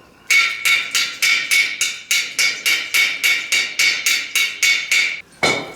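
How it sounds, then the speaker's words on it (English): A chipping tool hammers slag off a fresh stick weld made with a handheld portable welder, about fifteen sharp metallic strikes in a steady rapid rhythm, close and loud, ending with one heavier knock. "bust off the top slag."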